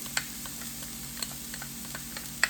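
Chopped onion and garlic sizzle gently in two tablespoons of oil in a pan, a soft continuous frying hiss with a few faint clicks from stirring.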